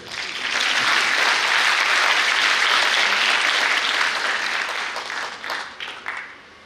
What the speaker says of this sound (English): Yeah, if you want, you can clap well.